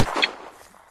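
A single sharp gunshot in the video game Unturned cracks at the very start, followed by a short fading tail and quiet background.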